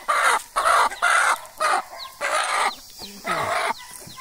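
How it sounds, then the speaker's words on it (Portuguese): A farmyard hen clucks in short, loud bursts repeated in an uneven rhythm, close by, with brief gaps between calls and no talking over it. "Vou segurar a galinha pra ele que vai pegar os pintinhos."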